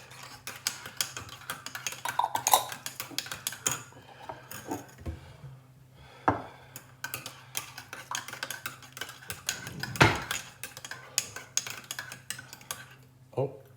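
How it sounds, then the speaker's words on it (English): A spoon stirs gravy with mint sauce in a pot, giving light, irregular metallic clinks and scrapes that are soft and close, with occasional louder taps. "And then mix my gravy up."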